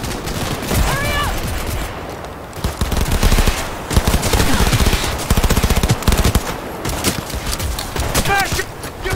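Sustained automatic gunfire in the game Cyberpunk 2077, loud rapid bursts of shots rattling almost continuously with brief pauses, while voices shout over the firefight.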